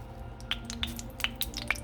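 Hot cooking oil in a pan for frying homemade dumplings crackles with sharp, sparse pops and ticks at irregular intervals over a faint low hum, fairly quiet and close, with no talking.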